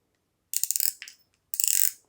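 A spinning fishing reel's spool is unscrewed in two quick bursts of close, crisp ratcheting clicks separated by a short pause, with no voices.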